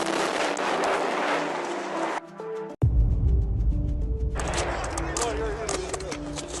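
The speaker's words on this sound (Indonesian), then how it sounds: "Tampak 4 petugas polisi mencoba menembak jatuh UAV Grand 2 tersebut yang dikhawatirkan mencelakai warga kota Kiev" Police officers in Kyiv firing at a Geran-2 drone overhead: sharp, loud gunshots and a heavy low boom, with a brief lull and a hard burst midway, followed by continuing noisy commotion.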